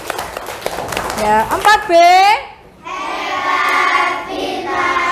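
A primary school class, 4B, breaks into dense, sustained applause for several seconds, following a voice and a teacher speaking.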